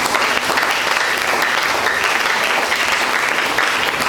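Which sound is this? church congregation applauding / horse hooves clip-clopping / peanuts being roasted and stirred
church congregation applauding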